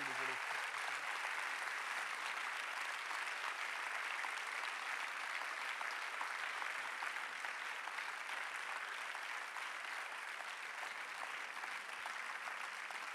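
A lecture audience applauds after a talk on living systems as allies, a sustained, even clapping that fills the whole stretch without pause, moderately distant and steady in density.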